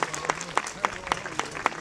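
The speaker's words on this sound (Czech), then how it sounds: "Potlesk pro Martina Wolfa, Martina Rozehnala." Steady clapping from an audience at a choreography competition, a crowd applauding with sharper claps standing out at a fairly regular pace, moderately loud.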